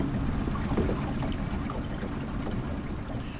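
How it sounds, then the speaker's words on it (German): A motorboat ride on water, with a steady broadband rush of engine and splashing water that stays loud and constant throughout, with no clear pauses. "Übrigens braucht man für die wilde Fahrt mit dem Motorboot keinen Führerschein."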